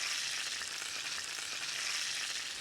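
Burger patties with cheese frying in a pan, a close, even, continuous sizzle with a soft crackle, steady and unbroken, no voices.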